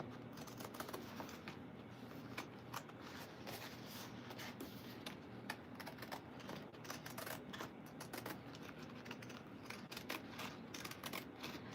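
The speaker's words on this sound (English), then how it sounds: "I'm going to cut this with the pinking shears." Pinking shears cut through a printed fabric panel with a soft, continuous run of crisp snipping and rustling, faint and close, with no voices.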